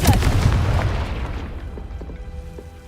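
A Confringo spell blast in Hogwarts Legacy lands as a loud, close boom that rumbles and fades over a few seconds.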